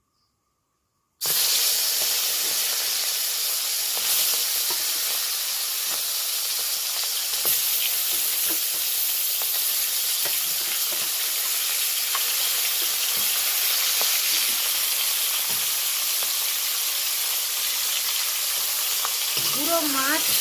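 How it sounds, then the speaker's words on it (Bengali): Fish frying in a little oil in a pan: a sudden loud sizzle bursts in after a brief silence and keeps hissing steadily, close and continuous, with occasional crackles. "অল্প অল্প করে মাছগুলো ভেজে নেব।"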